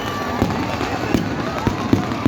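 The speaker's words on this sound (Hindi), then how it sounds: "पटाखों की आवाज" Sharp firecracker bangs burst at irregular intervals, about five in a few seconds, over a steady roar of crowd noise and background din at a Lanka Dahan event at Gandhi Maidan, Patna.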